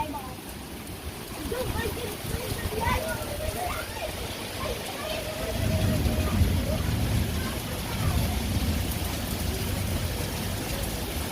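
Rainstorm with wind blowing through trees, a steady dense hiss of rain that grows heavier and lower midway, with a faint voice now and then beneath it.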